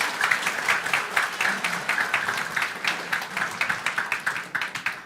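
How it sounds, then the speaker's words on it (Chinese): A church congregation at an Easter service claps for a choir's hymn. The applause is steady and moderately loud, with individual claps falling into an even, rhythmic beat for the whole stretch. "我们也用掌声来感谢迦南圣歌队他们的献诗"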